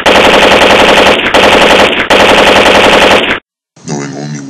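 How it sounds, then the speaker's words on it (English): Loud, dense machine gun fire used as a sound effect in a war audio story, three sustained automatic bursts separated by brief gaps, then a short silence and a quieter tonal sound afterward. "Gunfire."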